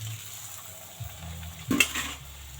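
Fuchka puris dropped one by one into hot oil, a soft stir and splash followed by a brief burst of sizzling close by, with no talk.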